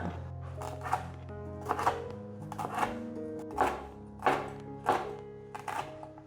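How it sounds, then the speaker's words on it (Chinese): Knife cutting a yellow bell pepper into strips, a series of about eight crisp chops on a board, evenly spaced, close and clear over a faint steady hum. "把黄甜椒切条状。"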